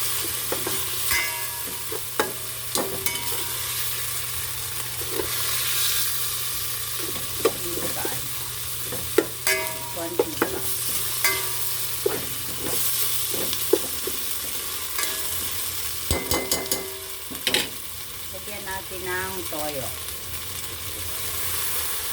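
Pansit bato noodles from Bikol stir-fried in a pan, with a steady sizzle and repeated scraping and clanking of the utensil as the food is tossed, close and continuous, without talk.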